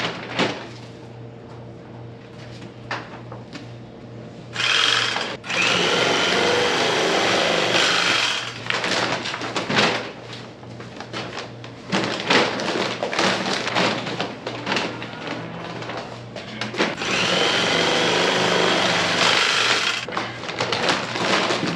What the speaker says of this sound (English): So as he keeps bagging, I'm gonna sew up the bags.